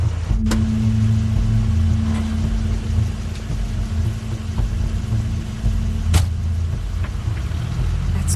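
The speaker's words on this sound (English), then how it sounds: "Crane's car." A car engine in The Wolf Among Us runs as a steady low rumble throughout, loud and close, with a couple of sharp clicks or thumps over it and no talking.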